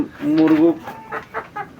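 A sick Silkie hen gives a drawn-out, nasal cluck, then a few short, soft clucks, close up in a quiet space.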